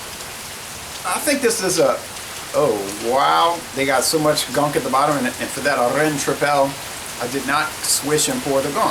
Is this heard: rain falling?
yes